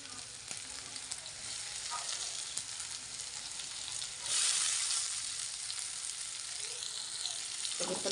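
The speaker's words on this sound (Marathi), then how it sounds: "भातच फ्राय करायचं आहे" Rice frying with onion in a pan gives a steady, dense sizzle throughout, swelling briefly louder partway through, with occasional faint spatula scrapes.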